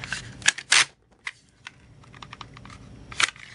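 Rifle rounds being pushed one by one into an AR15 P mag: a quick series of close, sharp metallic clicks and snaps with short pauses between them, ending in a firmer click.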